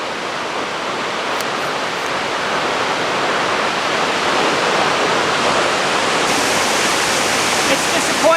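Waterfall at Danger Point, lighter in flow than usual, gives a steady, full-band rush that holds constant and swells slightly louder toward the end, with no voices over it.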